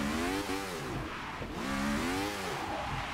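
Lotus 67 race car in a video game at Brands Hatch in the rain, its engine loud and close, revving and rising in pitch through repeated upshifts and swells of acceleration.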